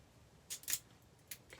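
Scissors snip embroidery machine thread packaging in a few quick, faint cuts: a double snip followed by a pause and another short clip, alone in a quiet room.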